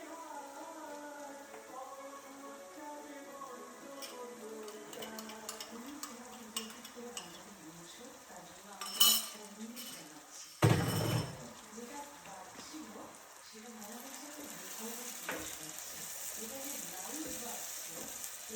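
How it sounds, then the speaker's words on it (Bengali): A paste of chilli, coriander and cumin ground with water fries in a pan, a soft sizzle under repeated scraping and stirring strokes, with a few louder clatters partway through and a steady low hiss. "এবার এই মশলাটা কষতে দিতে হবে"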